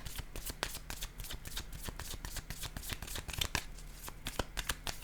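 Tarot cards shuffled by hand and laid down, a steady run of quick crisp riffles and taps, close and fairly quiet, with no talking.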